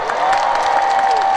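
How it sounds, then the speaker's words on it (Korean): A festival audience in Uiryeong gives a continuous, loud round of applause with a hint of cheering, and a sustained steady tone runs through it. "박수 한번 주세요, 여러분."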